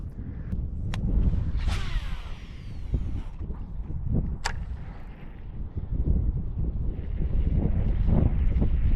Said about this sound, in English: The wind is humming right now.